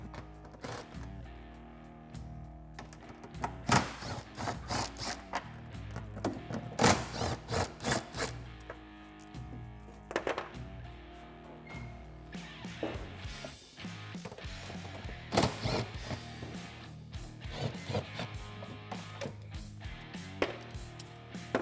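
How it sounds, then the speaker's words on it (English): Bolts being removed from the clutch cover of a Polaris RZR 800 with hand tools, a series of sharp metallic clicks and taps in irregular clusters close to the microphone, with some scraping between them. "go ahead and remove all of the bolts securing the clutch cover to the housing."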